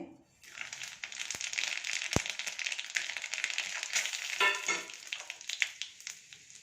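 Mustard seeds, chana dal, urad dal, fenugreek and cumin sizzle and crackle in two spoons of hot oil, a steady close hiss with popping seeds and a few sharp ticks of a utensil against the pan.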